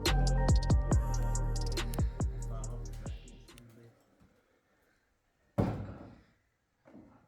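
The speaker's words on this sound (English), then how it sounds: "Some creaking going on." Metal parts creak and thud as a rear hatch is fitted to a 6R4 rally car in a workshop. Several loud knocks and creaking tones come first, then a quieter pause and one more sharp bang.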